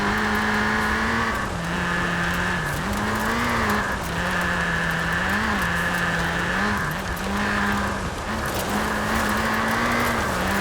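A Ford Racing Puma's front-wheel-drive engine drones loudly and steadily in Forza Horizon 4, its pitch dipping and rising with gear changes and throttle lifts, with faint tire noise underneath.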